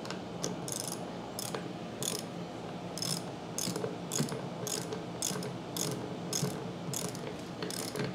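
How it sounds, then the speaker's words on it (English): A ratchet fitted with a 3/4 inch deep socket clicks in rapid, steady bursts while tightening a CAT 3DX29GSI pressure washer pump, close and fairly quiet over a low background hum. "Just going to use a deep drive 3/4 inch socket."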